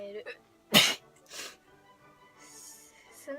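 A single sharp sneeze bursts out near the start, brief and fairly loud, with softer breathy sounds and quiet background noise before and after.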